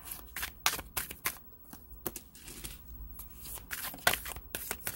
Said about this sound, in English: I'm going to pull three cards for overall energy for both of you.